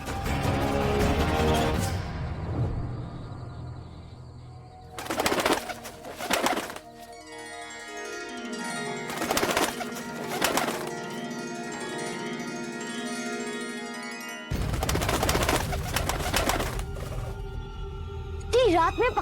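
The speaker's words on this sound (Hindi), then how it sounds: "इतनी रात में पक्षियों का कोलाहल" Pigeons or doves cooing and clamoring in a tree at night, loud and close, mixed with crashes, swelling tones and people talking.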